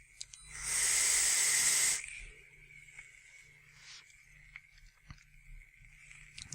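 A Clapton-wire vape coil on a Surric X mod sizzles with a loud, steady hiss for about a second while heating, then fades to faint crackles and pops close by.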